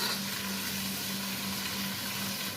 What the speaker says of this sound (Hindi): चिकन को थोड़ा सा फ्राई कर लेंगे प्याज के साथ। 1 से 2 मिनट तक इसको चिकन को फ्राई कर लेंगे।